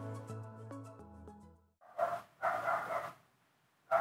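A dog barks close by in three or four loud, sharp bursts, following a few seconds of harmonic tones at the start.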